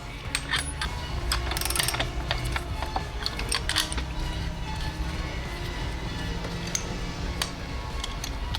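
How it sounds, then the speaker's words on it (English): A 24mm wrench ratchets while torquing fuel injectors on a BMW B58 engine, with repeated close mechanical clicks and metallic scrapes over a steady background hum. "It's a 24mm wrench, and we're going to be torquing in."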